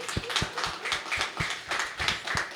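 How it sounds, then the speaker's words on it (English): Brief audience applause at a talk on Detroit's creativity, tech and culture, heard as a steady patter of clapping from a modest crowd at medium distance. "That deserves a round of applause."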